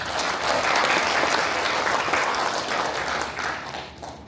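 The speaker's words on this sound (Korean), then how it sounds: "여러분 큰 박수 좀 부탁드리겠습니다." An audience at a Korean academic Seon Buddhism symposium applauds steadily, a dense wash of many hands clapping for about four seconds before tapering off toward the end.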